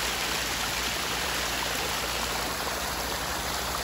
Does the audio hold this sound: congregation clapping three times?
no